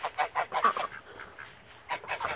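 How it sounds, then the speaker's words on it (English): Several geese honk in quick bursts nearby, a rapid cluster of calls followed by a short lull and then another volley. "Out here feeding the geese and the ducks."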